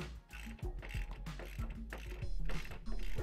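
Repeated ratcheting clicks and short metallic turns as a bolt with a trunnion sleeve is screwed into the threaded hole of a wall bed lever arm bracket, close and steady, in uneven bursts that grow denser toward the end.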